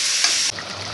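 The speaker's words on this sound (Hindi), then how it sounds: "अब इसमें मटन को ऐड करेंगे और अच्छे से भूनेंगे 2-3 मिनट" Steady loud sizzling of mutton frying with onions in a hot pan, with a brief stirring scrape partway through before the sizzle settles slightly quieter.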